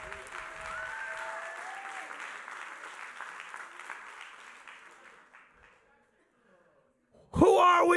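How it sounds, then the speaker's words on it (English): Audience applause at a New Year's Eve church service, a dense wash of clapping mixed with crowd noise that slowly thins and fades out over several seconds, followed by a brief quiet gap before a sudden loud burst of sound at the end. "Somebody clap like we're learning something."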